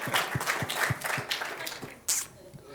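An audience at an education debate applauds in a steady, moderately loud patter of many hands, with a few stronger bursts standing out and little talk over it.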